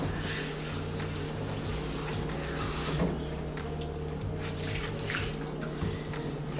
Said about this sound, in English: Then I'm gonna rinse out the shampoo.